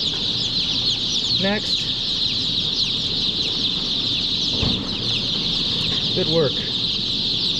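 Baby chicks cheep in a new brooder, a dense continuous high-pitched chorus close by, with short spoken words over it and a few brief louder peeps.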